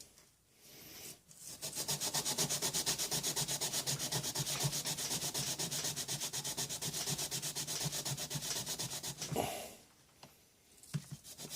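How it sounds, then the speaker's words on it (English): A 3M Scotch-Brite pad rubs steadily back and forth along an Opinel No. 9 carbon steel knife, a close, continuous rhythmic scrubbing that lasts several seconds before stopping. "I'm going to go back to my sandpaper. Not my sandpaper, but my Scotch-Brite"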